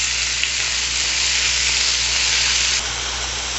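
Minced mutton, half a kilo, frying in hot oil with garlic while being stirred, a dense steady sizzle lasting throughout at close range, with a slight dip near the end.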